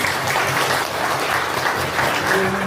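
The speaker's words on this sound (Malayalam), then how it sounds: "നല്ല കൈയടിയോടുകൂടി നമുക്ക് അവരെ സ്വാഗതം ചെയ്യാം" An audience at a St Alphonsa feast day gathering claps steadily to welcome children to the stage, a dense, sustained round of applause from a crowd nearby.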